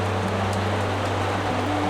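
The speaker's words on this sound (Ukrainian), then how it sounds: "А тут прям злива. Дуже атмосферно." A heavy rain downpour on a day out among Swiss lakes, heard as a dense, steady hiss of falling water with a low hum underneath.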